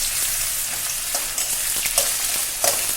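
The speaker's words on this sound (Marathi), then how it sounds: "आता तेल छान तापले आता बटाटा आपण छान परतून घेणार आहे" Potato pieces fry in hot oil for a fasting thali, giving a loud, dense crackling sizzle with a few sharper pops and stirring scrapes near the end, no one speaking.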